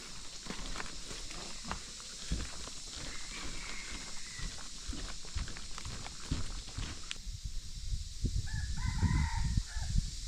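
A rooster crows at a temple, heard several times against an outdoor backdrop of rustling, footsteps and other birds, with the crowing clearest and closer toward the end.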